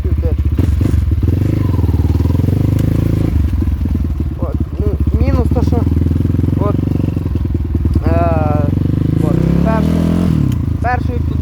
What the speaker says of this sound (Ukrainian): Заводиться, зараз покажу, як заводиться.